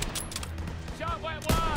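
Gunfire from a World War II shooter game, Call of Duty WW2, set in fighting near a church: a few sharp shot bursts, the loudest one near the end, heard with a voice talking.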